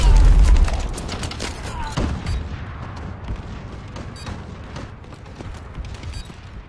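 An enemy bombing run in Call of Duty: Advanced Warfare multiplayer, with a heavy opening boom followed by a rolling series of explosions and gunfire thuds, loud and close, with game voice lines underneath.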